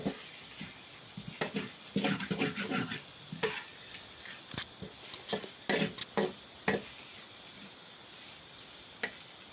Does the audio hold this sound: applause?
no